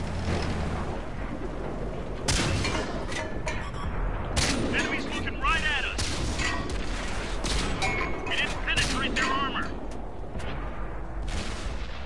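Artillery fire and shelling in World of Tanks near a light M3 Stuart tank, with repeated loud booms and gunfire bursts across the whole stretch and a voice talking over the battle.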